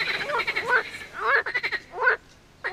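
Several frogs croak in bursts in a garden, rasping calls clustering into a few loud groups with short gaps between them, fairly close by.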